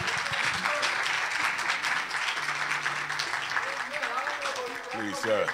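A church congregation claps steadily and fairly loudly, with voices and some musical tones woven through the clapping.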